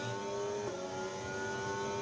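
An F1 race car in a racing video game at the French Grand Prix qualifying, its engine whining in a steady high tone with a brief dip as the car brakes hard, no talking.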